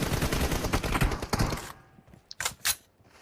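Rapid bursts of automatic gunfire in a 2v2 multiplayer shooter match, dense and loud for the first half, then a few sparser, isolated shots and clicks.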